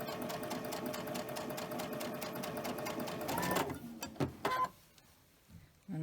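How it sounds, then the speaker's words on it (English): A sewing machine stitches bias-cut cotton fabric in a fast, even rhythmic whir for a few seconds, then stops, leaving a couple of soft clicks and handling noises. "I'm going to go ahead and just continue sewing and do the 2 together here"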